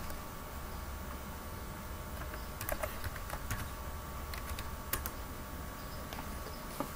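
Fingers tap on a computer keyboard in short clusters of quick clicks over a steady background hiss, close and fairly quiet, with no talking.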